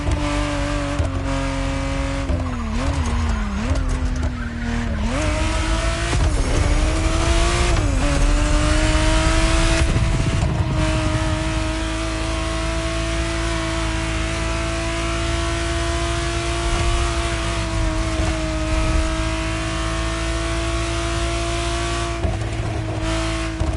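A 1991 Ferrari Testarossa in the racing game Motorfest revs and accelerates loudly, its engine pitch climbing and dropping through gear changes, then settling into a sustained high-speed drone.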